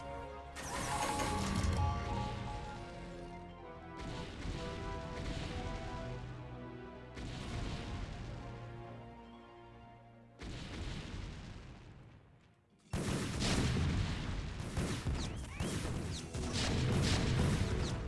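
StarCraft battle with zealots attacking siege tanks: repeated heavy explosions and booming tank fire in dense bursts separated by brief drops, loud and continuous with no talk.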